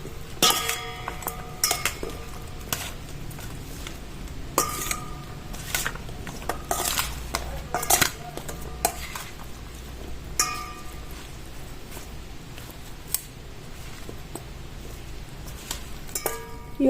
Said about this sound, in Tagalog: lagyan natin uli ng konting salt, tomato, onion, then, haluin natin.